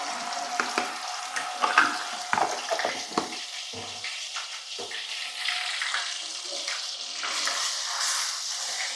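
Ginger garlic paste frying in a pan, a close hissing sizzle with scattered stirring scrapes and clicks, building into a steadier fry toward the end.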